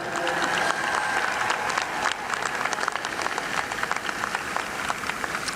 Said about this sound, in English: give a round of applause for friends and relatives and folks that have helped you make this day possible